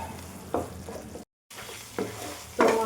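Fish masala spices fry and get stirred in a pan, giving a soft continuous sizzle broken by several scraping stir strokes and one short silent gap.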